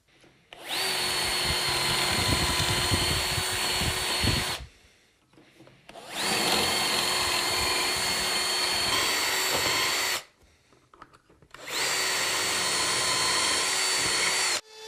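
Power drill boring dowel holes in solid timber for a drawer, three long loud bursts of steady high whine, each several seconds, separated by short quiet pauses.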